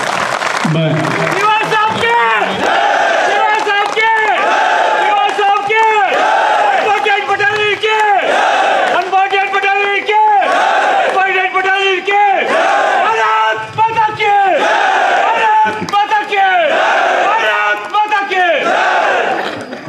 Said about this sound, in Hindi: और एक बार फिर से 148 बटालियन के लिए जोरदार तालियां।